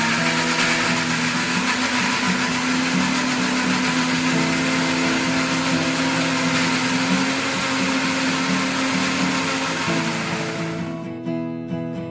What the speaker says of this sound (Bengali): এখানে আমি প্রথমে পেঁয়াজ আদা রসুন কেটে ছিলে ধুয়ে নিলাম এবার ব্ল্যান্ডার করে নেবো